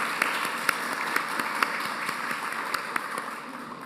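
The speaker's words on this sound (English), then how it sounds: "I'd like to give everyone a round of applause again for their great contributions" Audience at a women's history symposium applauding panelists and moderators, a steady wash of many hands clapping at moderate volume with a few sharper individual claps standing out, no talking.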